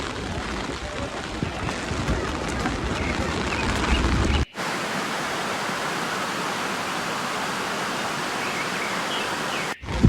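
Water gushes through three partly opened gates of Dharoi Dam on the Sabarmati River with a powerful, unbroken roar, loud and close, with wind buffeting the microphone.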